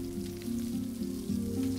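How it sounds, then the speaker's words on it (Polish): Meat sizzling and frying over a fire in the survival video game Stranded Deep, a steady crackling hiss with a low hum underneath, continuous and fairly quiet. "I pomału będziemy sobie smażyć wszystkie mięska."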